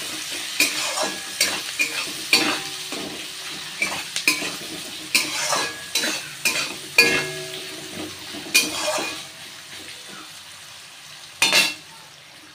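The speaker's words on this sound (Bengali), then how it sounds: "পেঁয়াজগুলো দিয়ে আমি পেঁয়াজগুলো ভাজা ভাজা করব।" Large-cut onions fry in a pan while a metal spoon stirs them, a soft sizzle broken by regular clinking scrapes and taps against the pan, close up, tailing off near the end, no speech.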